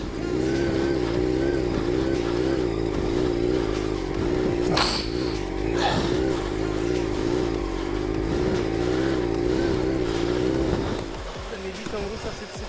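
A motorcycle engine idles and putters steadily at close range while riding circles on the clutch without throttle, rising and falling slightly, with brief bursts of higher noise in between.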